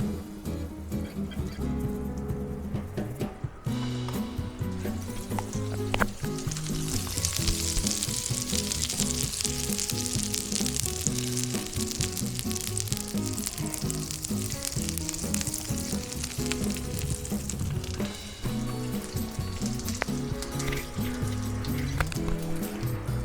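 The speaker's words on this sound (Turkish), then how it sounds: "Tereyağımız biraz erirken sıvı yağımızı da boşaltalım şöyle." Butter and oil for flour halva sizzle steadily in a pan, a loud continuous crackling hiss with a brief pause early on and faint scraping underneath.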